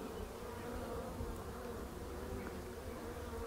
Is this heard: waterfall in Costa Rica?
no